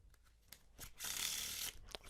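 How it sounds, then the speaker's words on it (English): A Bicycle playing card deck gets a faro shuffle, with light handling clicks and then a close, quiet papery rush of cards weaving together for under a second before more soft taps. "Let's do a wee Pharaoh shuffle with it."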